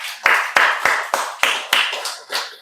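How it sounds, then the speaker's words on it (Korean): A church congregation applauding in praise, arriving as a series of about eight sharp, evenly spaced clap bursts, each quickly fading, fairly loud and close with no talking. "우리 하나님께 영광의 박수 하겠습니다."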